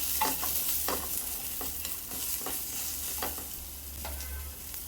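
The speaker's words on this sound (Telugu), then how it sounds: "ఆ తర్వాత ఎండుమిరపకాయలు వేస్తున్నానండి" Two dried red chilies drop into a hot oiled pan while a curry base cooks, giving a steady close sizzle with stirring scrapes and light clinks running through it.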